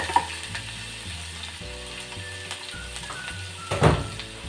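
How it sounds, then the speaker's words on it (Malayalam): Ginger garlic paste sizzles steadily as it fries in a hot pan, with a brief louder stir and scrape near the end; no one talks. "ഇഞ്ചി വെളുത്തുള്ളി പേസ്റ്റാണ് പച്ച മണം മാറി വരുന്നവരെ നമുക്കൊന്ന് വാട്ടിക്കൊടുക്കാം"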